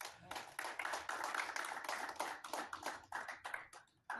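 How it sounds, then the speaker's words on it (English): Applause from the audience at a snooker open championship: a burst of clapping, fairly close and uneven, that thins into scattered claps and then pauses briefly before the end. "I really want to give him a round of applause for all his efforts"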